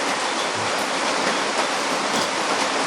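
Heavy rain pours down in a dense, steady hiss with no breaks, loud and close, on an island.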